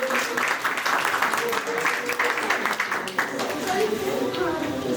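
An audience claps for children in sustained, fairly close applause, with a voice talking over the clapping throughout.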